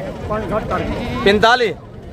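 Goats for sale at a livestock market in Dera Ghazi Khan bleat loudly and close by, one wavering cry after another. Chatter from the market blends in behind them.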